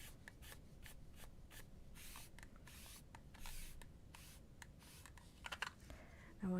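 A computer keyboard being cleaned in a cozy setting, with a run of close, irregular clicks, brushing and rubbing, and a brief spray-like hiss, all fairly quiet and without talking.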